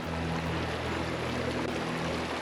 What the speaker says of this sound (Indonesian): Ini ada sungai kecil, sungai Belerang.